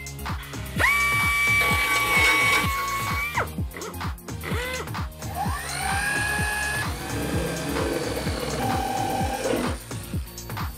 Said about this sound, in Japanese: ドリルの刃です。